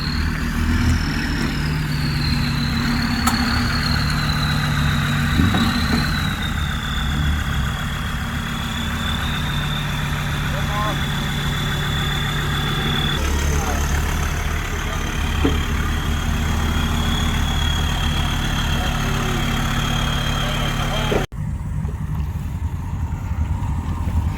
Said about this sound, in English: I'll try and capture the sound of it as it's going up this gradient.